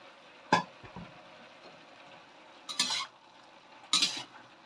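Leeks are stirred and sautéed in a pan while cooking with wood ear mushrooms. A spatula scrapes and clinks against the pan in three short bursts, with a faint low sizzle underneath.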